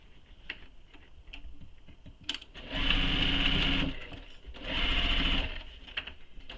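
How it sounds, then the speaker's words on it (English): A sewing machine stitches a bag seam in two steady runs with a pause between, a close, even mechanical whirr with light ticking. "So now I'm going to sew this again with the seam allowance given in the pattern"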